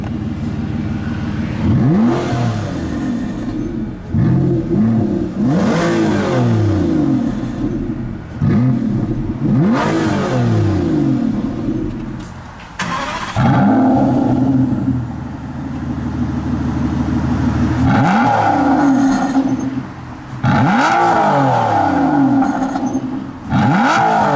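A car engine in sport mode with its exhaust valve open revs hard again and again. The loud, close, rising and falling bursts are separated by brief dips, and no voices are heard.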